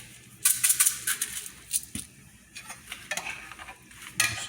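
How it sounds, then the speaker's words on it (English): Rice stirred in a pan for arancini, a spoon scraping and clinking against the metal over a soft sizzle, in irregular close strokes through the whole stretch with no voice. "Just give it a stir"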